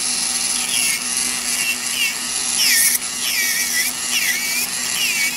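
An electric nail drill with a bit shortens fingernails, giving a steady high whine that rises and dips in pitch as the bit is pressed against the nail, close and continuous.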